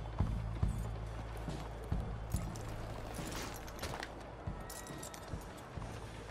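Horse hooves clip-clop in Red Dead Redemption 2 on PS4 Pro, with a steady run of sharp irregular hoof strikes over a low ambient drone and no talking.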